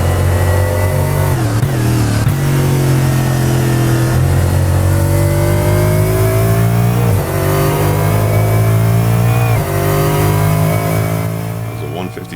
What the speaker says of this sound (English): I'll give you the full volume replay so you can hear that V8 engine roaring.